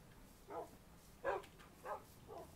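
A pack of tamed Minecraft dogs in the Hexxit modpack gives four separate barks at an irregular pace, each one clear and mid-distance over faint game ambience.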